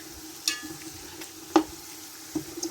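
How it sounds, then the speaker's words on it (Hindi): Garlic frying in a pan with golden-browned onions gives a low, quiet sizzle, broken by a few sharp clinks and scrapes from stirring, with no talk. "और अब इसमें मैं डालूँगी गार्लिक"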